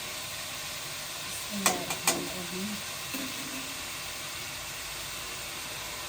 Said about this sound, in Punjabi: ਗੋਸ਼ਤ ਨੂੰ ਨਾ ਫਰਾਈ ਕਰ ਲਿਆ।